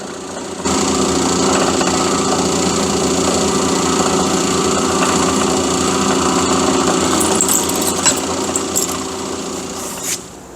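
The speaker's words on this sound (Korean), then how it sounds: "자, 이렇게 구멍을 뚫었으면은 여기 나사내면 되고요" A power drill runs continuously and loudly while boring holes for the leg of a fishing platform, a steady motor whine with slight strain shifts near the end and no speech.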